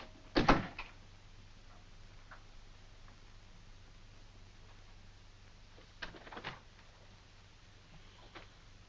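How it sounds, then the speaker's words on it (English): A door shuts with a sharp thump near the start in a quiet room with steady low hum, followed later by a second softer knock and faint handling noises, no voices. "I said close the door."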